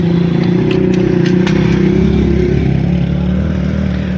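A loud, steady motor drone rumbles close by on a village road, holding an even, unbroken level throughout with no clear rise or fade.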